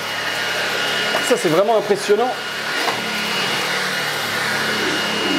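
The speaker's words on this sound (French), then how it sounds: "j'ai rarement vu un aspirateur qui colle autant au tapis" A powerful vacuum cleaner runs on carpet with a loud, steady whooshing roar that continues under a short burst of French speech.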